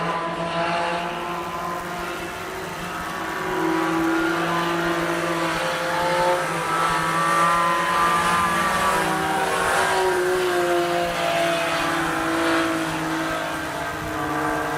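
Junior sedan race cars lap a Rockhampton speedway oval, their front-wheel-drive engines droning steadily and swelling slightly as the pack passes, a continuous loud roar with no talk.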